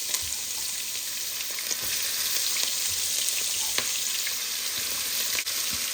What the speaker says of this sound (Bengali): তো এই যে মাছটা ভেজে ফেলছি, এখন পেঁয়াজগুলো দিয়ে দিচ্ছি।